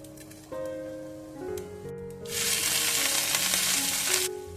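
Raw peanuts fry in a pan, a steady sizzle that swells louder partway through, heard close with a faint tonal background underneath.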